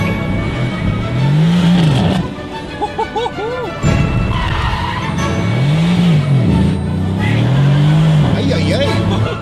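Car on a warm-up lap at a tuning shop event, engine revving with rising and falling pitch and a brief high squeal, loud and close, with voices talking over it.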